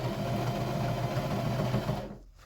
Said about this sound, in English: I'm also just using a regular Brother sewing machine.